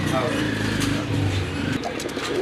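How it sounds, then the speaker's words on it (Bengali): Low, soft cooing of local pigeons being offered for sale, mixed with a background hum and some voices nearby. "আরেক জোড়া অসাধারণ এক জোড়া কবুতর"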